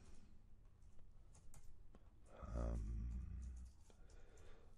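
Quick clicks of typing on a computer keyboard, faint and close, with a burst of louder low noise partway through.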